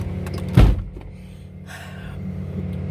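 A car door thuds shut close by, followed by the whir of a power window motor running steadily for a couple of seconds inside the vehicle.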